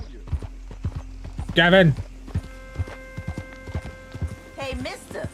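Horse hooves clip-clop in Red Dead Redemption 2, a steady walking rhythm of close, distinct hoofbeats throughout, while a voice shouts once and another briefly speaks near the end.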